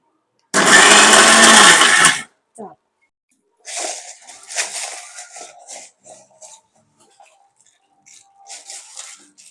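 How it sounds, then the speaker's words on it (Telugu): A mixer grinder roars loudly for about two seconds as it coarsely grinds a fried tempering of mustard seeds, cumin and curry leaves for ridge gourd chutney. Lighter clattering and voices follow. "ఇది కూడా మిక్సీ పెడతాను"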